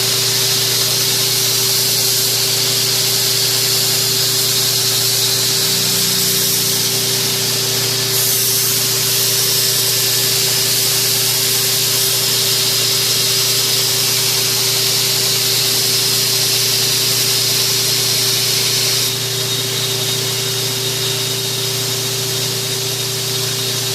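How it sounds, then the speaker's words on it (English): A buffing machine polishing a custom knife blade gives a loud, constant hissing whir that runs without a break, with small shifts in tone as the blade presses against the wheel. "Buffing machine real quick."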